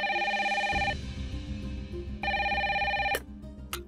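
An electronic landline phone rings in two bursts of trilling tone, with a low hum underneath and a brief click near the end.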